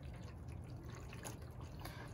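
Warm water runs into a toy kitchen play sink with a functional faucet, a soft steady trickle with light splashing, heard up close and quiet.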